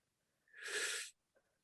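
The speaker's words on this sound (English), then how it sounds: "now take a nice slow deep breath in" A single slow, deep breath drawn in through the lips over a phone line by a patient short of breath; it is an airy, hissing inhale of about half a second with a faint sound after it.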